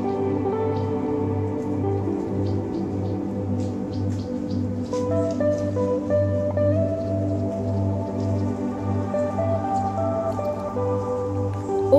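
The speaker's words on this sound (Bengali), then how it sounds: "এবার এই পেঁয়াজ রসুন কুচি আমি তুলে নিচ্ছি তেল ঝরিয়ে" Fried chopped onion and garlic are lifted out of hot oil, with a steady sizzle and soft dripping and squishing as the oil drains, close and continuous with no talk.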